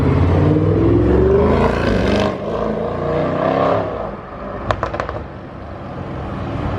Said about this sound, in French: Une RS6 très énervée qui débarque.